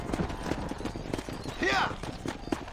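Horse hooves in a Red Dead Redemption ride, a quick clip-clop beneath steady game voices, with a brief whinny-like sweep partway through.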